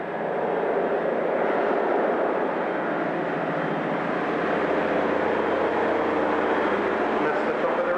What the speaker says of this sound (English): you can hear the helicopter arriving with the automation crew now